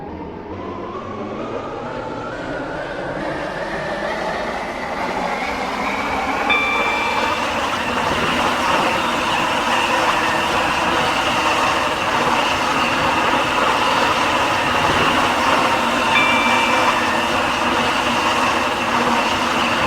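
Stepford County Railway train on the Waterline in Roblox running steadily, a loud continuous rumble with rising whine and faint wheel clatter, no talk.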